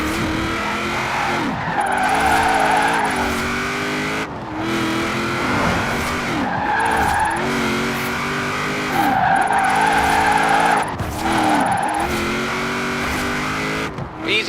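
A car drifting in Forza Horizon 4, engine roaring steadily under repeated loud tire skids and squeals that rise and break off every few seconds through a run of tight turns; a voice talks faintly at times.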